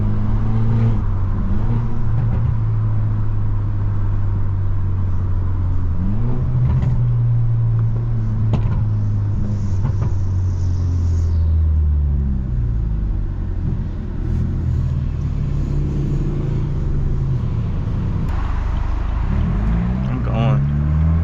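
A straight-piped BMW 320i with a stage 2+ tune drives along, heard from inside as a loud, droning exhaust whose pitch climbs and falls with repeated revving and gear changes.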